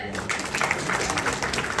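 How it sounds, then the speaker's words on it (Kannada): Loud applause from a crowd at a film trailer launch event, a dense continuous wash of clapping filling the short moment. "ಸೂಪರ್ ಸೂಪರ್ ಜೋರಾದ ಚಪ್ಪಾಳೆ"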